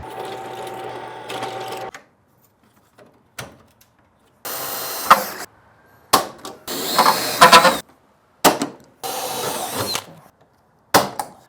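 Riveting a vintage camper baggage door, with short bursts of a powered rivet tool and sharp mechanical clicks and snaps separated by silent gaps, close and fairly loud.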